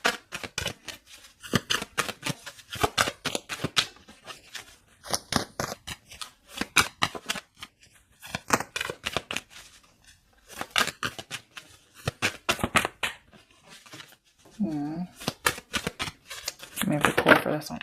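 Tarot cards are shuffled by hand for a card pull, giving a quick run of crisp riffling and flicking bursts that come in uneven clusters with short pauses between them, close and fairly loud.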